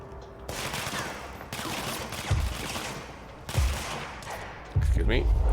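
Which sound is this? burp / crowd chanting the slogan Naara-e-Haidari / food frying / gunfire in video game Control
gunfire in video game Control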